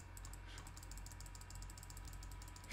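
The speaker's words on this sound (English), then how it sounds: "clicking my way through this." Rapid clicking from a computer mouse while paging through a design app, a fast even run of light ticks over a steady low hum, close and fairly faint with no voices.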